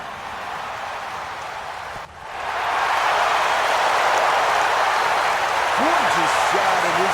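Broad roar of a large crowd applauding and cheering a golf shot at the 16th hole in an EA Sports PGA Tour game, swelling after a brief dip and holding loud, with a commentator speaking over it.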